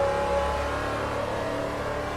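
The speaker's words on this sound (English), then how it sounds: "Hard on the brakes, but with late downshifts with a lot of engine braking for turn 8." A vintage Trans Am race car in Assetto Corsa brakes hard and downshifts late with heavy engine braking, its engine droning loud and steady throughout.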